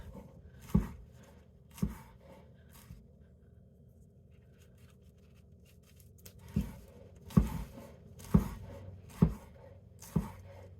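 Knife slowly slicing food thin on a cutting board for pomodoro sauce, giving sharp isolated chops spaced a second or more apart with a quiet gap in the middle, close and fairly soft.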